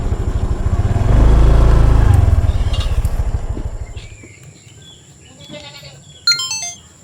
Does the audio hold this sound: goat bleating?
yes